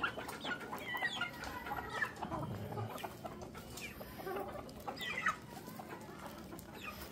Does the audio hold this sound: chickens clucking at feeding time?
yes